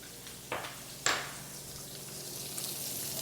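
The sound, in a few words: onion and garlic sautéing with pork in a pan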